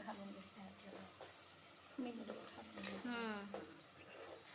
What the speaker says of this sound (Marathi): अशा या पद्धतीने वाटण तळसून घ्यायचं